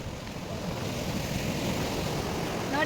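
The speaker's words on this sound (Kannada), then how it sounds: "ಇಲ್ಲಿ ಅಲೆಗಳು ಜಾಸ್ತಿ ನೋಡಿದ್ರೆ ಹಿಂಗೆ ಅಲೆ ಬರ್ತಾಯಿದೆ" Ocean waves wash steadily onto a beach with rocks, trees and soil along the shore, a continuous broadband surge with some wind noise and no voices.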